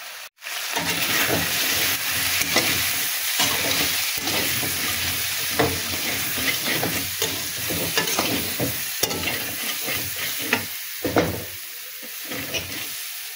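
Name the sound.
shrimp frying in oil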